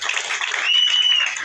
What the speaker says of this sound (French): Et je souhaiterais qu'on puisse applaudir